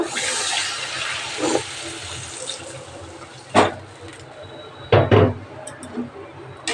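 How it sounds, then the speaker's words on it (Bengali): Water being poured into a pot for a thin egg curry; a close, gushing splash that fades to a low trickle, followed by a few sharp clanks and knocks near the end. "জল দিয়ে দেবো"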